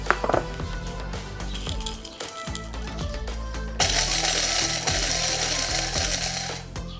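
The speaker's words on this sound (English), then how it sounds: "We got a coffee mill to do the work for me." A coffee mill grinding black pepper for a steak brine, a steady mechanical whirring rattle that gets louder and harsher about halfway through, with no talking.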